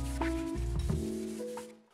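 Sanding the finish off an electric guitar body, a steady close rubbing scrape with a few brief scuffs that fades out at the end.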